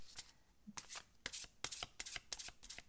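Tarot cards shuffled and drawn during a reading, a quiet close series of crisp riffling snaps and slaps in irregular bursts.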